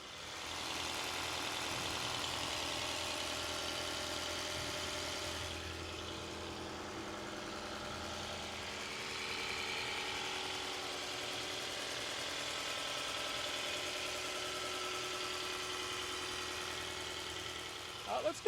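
A 2010 Lexus HS250h hybrid engine runs at idle close by, a quiet, even hum with a faint whirring tone that holds steady throughout.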